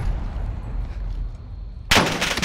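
Gunfire rings out in Call of Duty: Warzone over a low rumbling game backdrop, with a sudden loud burst of shots near the end.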